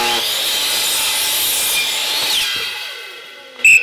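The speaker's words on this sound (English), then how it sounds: "I'm gonna cut my stock keeping tongue side." A saw cuts through reclaimed wooden board stock, set at a bevel and miter angle. A loud, close, continuous grinding whine tapers off as the blade winds down and ends with a sharp clack.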